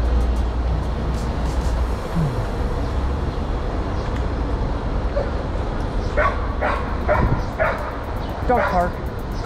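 Dogs at a New York City dog park bark and yip in short bursts over a steady outdoor city rumble with passing traffic, the barks sounding moderately distant and irregular.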